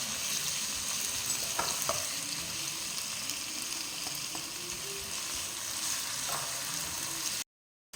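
Onions and tomato sizzle steadily in a pan for chicken kurma, a continuous close frying hiss with a few soft spatula clicks, no talking.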